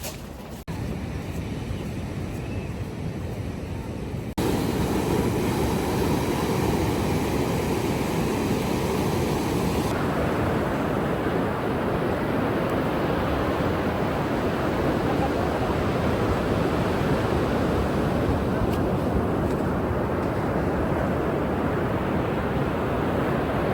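Sea waves wash onto a beach in La Union, a broad steady surf roar with wind buffeting the microphone, continuous and fairly loud with no talk.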